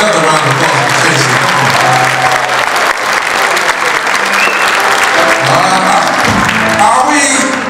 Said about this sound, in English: round of applause for Stacy.